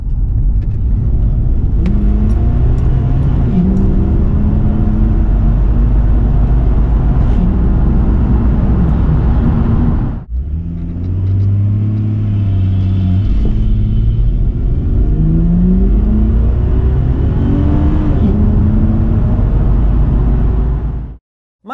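A Ford Falcon with a turbocharged engine and a ported wastegate pulls hard twice, loud and close, its rumbling note climbing with each gear. A short break sits between the runs, and the sound cuts off abruptly at the end.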